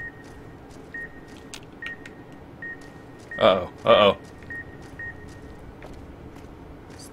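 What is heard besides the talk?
beeping in a video game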